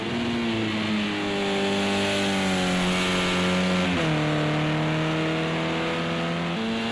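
A race car engine at Brands Hatch GP circuit drones loudly and steadily as the car is thrown through a corner, its pitch sliding down and then shifting as the revs drop into the next gear.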